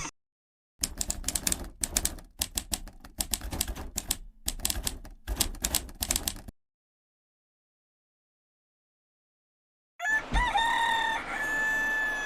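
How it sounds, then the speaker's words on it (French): Rooster crowing in the morning in the Pyrenees, a loud close cry that arrives after about ten seconds, following a stretch of rapid clattering taps and then silence. "Il y a le coq qui aboie là depuis 6h du mat là, qui est piaillé."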